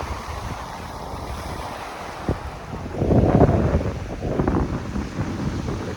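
Surf washing onto a small beach on Koh Samet island in Thailand, with steady wind and water noise and a louder wave rush breaking in about halfway through, fairly close.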